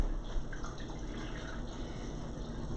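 Ten ounces of water is poured into a measuring cup for a lemonade cleanse drink, a faint, close trickle running quietly and continuously with no speech.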